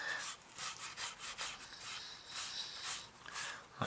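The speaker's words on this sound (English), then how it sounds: "So I'm just going to gradually keep wiping all this off here." Cloth wiping a weathering wash off a 1/48 Fujimi Mitsubishi A6M2 model aircraft, with soft, repeated rubbing strokes, close and quiet, in an uneven rhythm with no talk.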